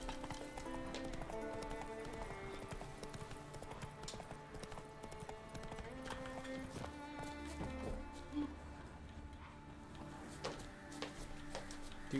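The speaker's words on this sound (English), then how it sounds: "Ooh, there's a horse race here. That's it, Roach." Galloping horse hooves in The Witcher 3 during an in-game horse race, a steady rhythmic clip-clop running throughout under game music and effects, with someone talking over it.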